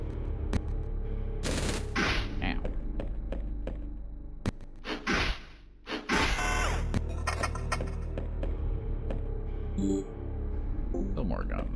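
Gunfire in the House of Necrosis video game, a few sharp, loud bursts of rapid shots among thuds and impacts, with a voice talking over parts of it.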